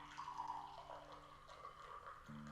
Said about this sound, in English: let's go ahead and pour a cup for the man behind the camera who makes everything possible